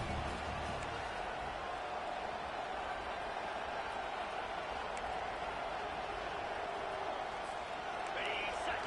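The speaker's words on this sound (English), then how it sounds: "They challenge this crowd to bring the energy, and I'd say they're doing that" Football stadium crowd noise from the NCAA 25 video game at a Georgia Southern Eagles vs Clemson Tigers matchup, a constant, fairly distant roar of cheering and clapping that holds steady throughout.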